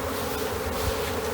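Honey bees of a swarm buzz at a modular hive in a dense, continuous drone, close and steady across a brief moment with no voices.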